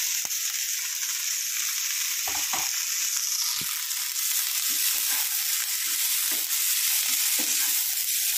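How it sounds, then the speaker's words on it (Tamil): Onions and vegetables sauté in a pan over a high flame, a bright steady sizzle broken by several sharp scraping stirs of the spoon, close and continuous with no talk. "ஒரு 2 நிமிஷம் ஹை ஃப்ளேம்லேயே நல்லா வதக்கிட்டு"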